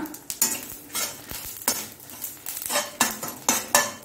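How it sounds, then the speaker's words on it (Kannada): Coriander, fenugreek and cumin seeds frying in a pan for a Tulunadu-style masala pathrode tempering, heard as a close, loud run of rattling and scraping stirs with metallic clinks and a light sizzle. "ಕೊತ್ತಂಬರಿ, ಮೆಂತೆ ಹಾಗೂ ಸ್ವಲ್ಪ ಜೀರಾ ಎಲ್ಲ ಹಾಕೊಂಡು ಇದನ್ನು ಸ್ವಲ್ಪ ಫ್ರೈ ಮಾಡ್ಕೊಳ್ಳೋಣ"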